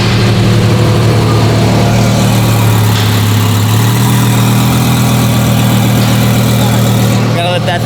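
A 2,200 hp Lamborghini engine idles steadily while warming up, a deep, even rumble with a heavy low drone held close and loud throughout, with a brief clatter near the end.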